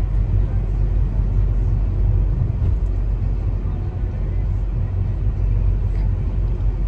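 Low rumbling wind hum inside a moving car with a window open, a steady loud roar filling the whole stretch without letup.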